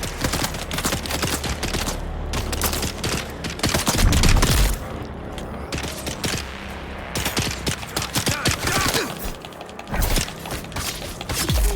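Automatic gunfire in the survival game Dune Awakening, with loud bursts of rapid shots firing in repeated volleys, briefly pausing and then resuming, with no talk over it.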